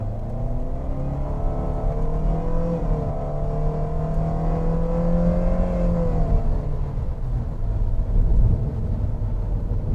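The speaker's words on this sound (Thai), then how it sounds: "แล้วลองเหยียบคันเร่งเต็มที่นะครับ" A Toyota Veloz MPV accelerates at full throttle in eco mode, its engine note droning steadily and rising in pitch, loud and close throughout with no talking.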